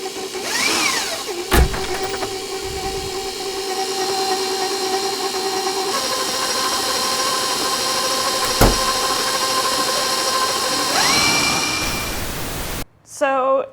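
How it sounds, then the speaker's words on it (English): A stand mixer fitted with a paddle creams butter: a steady motor whir with a tonal hum that steps up in speed partway through, broken by a couple of sharp clanks, while someone speaks. "start on a very low mix with the paddle just to not have it go everywhere, and then go up to a medium until it's blended"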